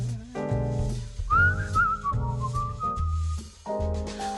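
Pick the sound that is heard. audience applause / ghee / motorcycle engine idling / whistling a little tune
whistling a little tune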